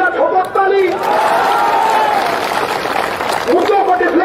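A crowd at a political rally applauds and cheers loudly and steadily for several seconds, a dense sustained roar with whoops rising again near the end, with no talk over it.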